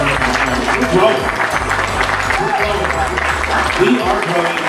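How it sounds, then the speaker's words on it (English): A crowd at a company Christmas party for a parts and service business claps steadily in dense, sustained applause, loud and close, with voices mixed in beneath the clapping. "So give yourself a round of applause."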